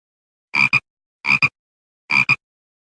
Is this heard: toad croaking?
yes